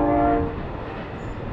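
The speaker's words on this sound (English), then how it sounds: "That's a big train." A large train rolling past beside a Florida rail trail: a loud, steady rumble with a strong horn-like tone in the first half second that fades into a dense, continuous passing roar.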